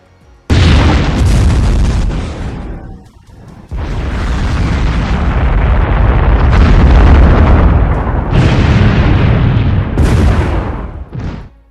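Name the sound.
bombs exploding over a city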